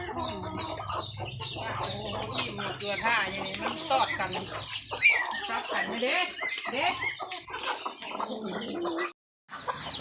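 Chickens cluck and call close by on a farm, a busy overlapping chorus of clucks and squawks, with people talking over and among the birds.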